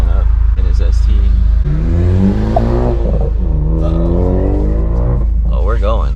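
A Ford Focus ST pulls up with a low, steady engine rumble that sits beneath loud, close voices talking throughout.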